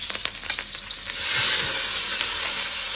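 Chopped scallion and ginger hit hot oil in a wok, swelling into a loud, close, continuous sizzle after a few light clatters of the ladle.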